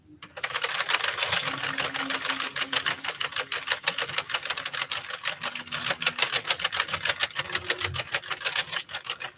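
A domestic knitting machine carriage runs across a row of a knitted hat, giving a fast, steady mechanical clatter and rattle close by, continuous for the whole stretch with no talking.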